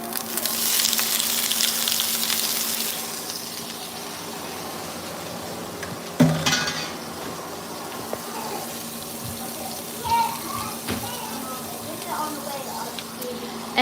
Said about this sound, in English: I'm gonna go put these green beans in the skillet.